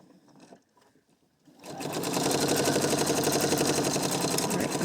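A sewing machine runs steadily while stitching the underarm seam of a tunic, starting after a quiet moment of faint handling and then a continuous loud, even mechanical whir to the end.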